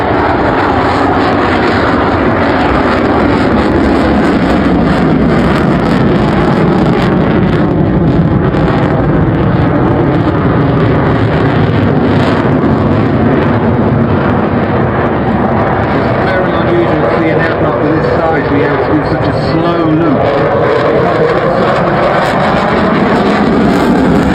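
A jet aircraft at an airshow powers up into full afterburner reheat, a loud, continuous roar close by that holds steady throughout, with broad rumbling and a slowly shifting tone as it passes.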